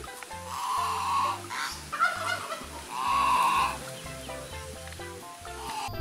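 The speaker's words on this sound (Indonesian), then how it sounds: "Wow, lihat di sini ada angsa teman-teman." Goose honking repeatedly in loud, nasal bursts, several calls spaced across the stretch, over a background of steady low-pitched tones and light noise, in a children's toy-truck setting.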